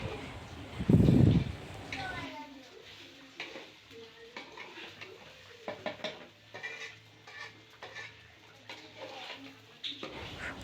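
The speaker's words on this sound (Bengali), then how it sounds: "এখন মশলার সাথে চালগুলোর ভালো করে মিশিয়ে নিতে হবে" Washed rice and lentils are stirred with spices in a pot for khichuri, giving close, scattered scrapes and clinks of a spoon against metal after a brief louder clatter, with a voice talking over it.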